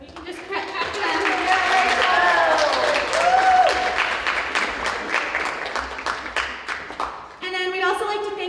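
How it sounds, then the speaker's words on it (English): A school theatre audience claps for the tech crew after a play. Applause runs steadily under a voice speaking throughout, then dips briefly before more crisp clapping returns at the close. "You can just clap for them."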